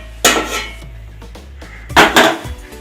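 A metal steamer plate holding steamed carrot-and-egg cutlets is lifted off a home stove, giving two loud clanking bursts of metal on metal with softer clinks between.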